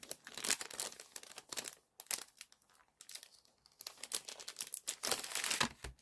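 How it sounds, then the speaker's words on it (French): Plastic packaging of an Action Christmas wooden house kit is unwrapped up close, with repeated sharp crinkling and crumpling bursts and a short pause partway through. "Donc je vais le déballer avec vous."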